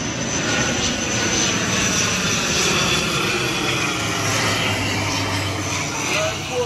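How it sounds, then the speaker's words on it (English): An airplane passes low overhead near Fort Lauderdale airport, its steady broadband engine roar filling the scene continuously and loudly, with people talking faintly beneath it. "You can see the plane coming here on top of us."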